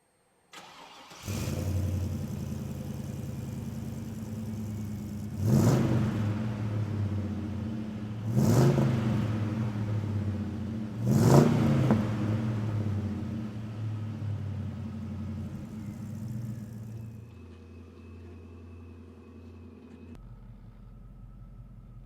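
An LS-swapped 1972 Chevrolet C10 pickup's engine starts, idles, then revs up through several gear shifts as it drives off, heard from inside, steady and moderately loud.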